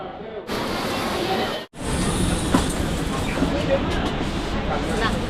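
A metro train rumbles steadily with a broad, loud roar, briefly cutting out before continuing; faint voices sit under the noise.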